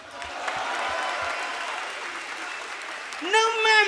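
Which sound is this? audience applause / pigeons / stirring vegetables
audience applause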